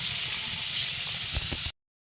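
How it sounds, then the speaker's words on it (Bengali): Onion frying in a pan gives a dense, loud, close sizzle that carries on steadily with faint stirring knocks before cutting off abruptly. "পেঁয়াজটা ভাজা হইতে থাকুক।"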